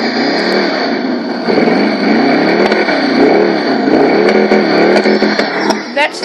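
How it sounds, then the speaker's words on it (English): A loud engine revs continuously with a throaty, fluctuating exhaust tone, rising and falling in pitch, like a car accelerating in a game; an Albany Manana in a video game. "listen to the exhaust on this thing"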